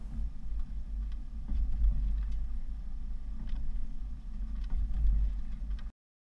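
A car carrying a Thule T2 Pro XTB bike rack rolls over solid speed bumps, a low rumbling drive with soft rattles and light knocks at intervals, moderately quiet, ending abruptly.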